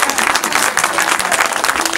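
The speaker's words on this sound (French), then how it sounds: "Applaudissez, si vous n'applaudissez pas," Audience applause at a single launch event, a loud continuous patter of many hands clapping with crowd noise and scattered voices mixed in, steady for the full stretch.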